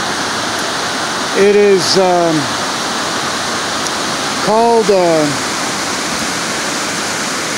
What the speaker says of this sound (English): there's two or three other little waterfalls, but this is the big one for this area.